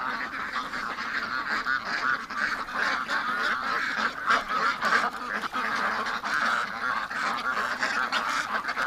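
A flock of ducks and geese honking and quacking continuously nearby, a busy overlapping chorus of calls with no voices.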